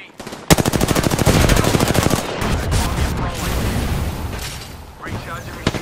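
Loud, rapid automatic gunfire from a close firefight in the battle royale game Apex Legends, with dense bursts of shots for a couple of seconds followed by continued clatter and impacts.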